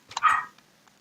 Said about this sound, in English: That was my dog, sorry.